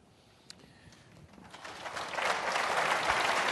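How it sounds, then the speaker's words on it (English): Audience applause at a political forum swells from a faint start into steady, dense clapping that grows louder and fills the room. "You don't have to clap every time I give an answer."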